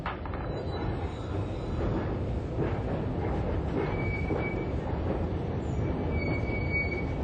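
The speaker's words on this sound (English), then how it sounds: "engineers readied a test run of the PATH train" PATH work train on a test run in the Hudson River tunnel, a continuous rolling rumble of railcars with high thin wheel squeals drifting in and out, steady and moderately distant.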